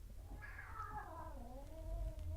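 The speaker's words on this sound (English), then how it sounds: "my cat is freaking out." A cat lets out one long, drawn-out, wavering meow that slides downward in pitch, agitated and moderately close, heard alone in an indoor room.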